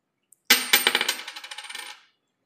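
Indian five and ten rupee coins drop onto a hard surface, one sharp impact followed by a rapid series of bouncing, rattling clinks that quicken and fade before stopping.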